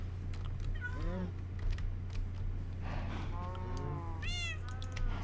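A cat meows in the Minecraft video game, giving a few rising-and-falling meows spread over several seconds against a steady low in-game hum.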